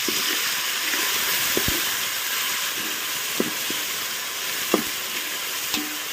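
Onion and ginger paste fries in a pan with a steady broadband sizzle, punctuated by several sharp spoon-against-pan clicks as it is stirred, close up with no voices.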